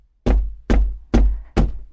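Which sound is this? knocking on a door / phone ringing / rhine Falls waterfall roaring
knocking on a door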